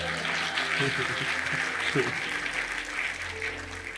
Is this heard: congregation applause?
yes